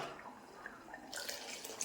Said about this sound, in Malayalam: കുറച്ച് വെള്ളം ഒഴിച്ചു കൊടുക്കുക